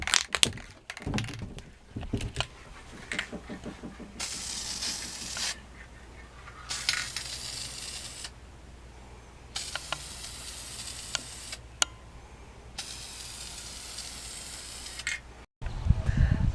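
Matte clear coat sprays onto aluminum rims in several long, hissing bursts of a few seconds each, separated by short pauses and clicks, fairly close and steady.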